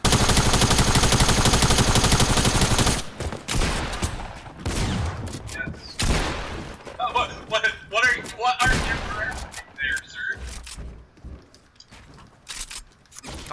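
Loud rapid automatic gunfire in a Fortnite match, a dense burst for the first few seconds followed by scattered shots, impacts and game effects, with players talking over the later part.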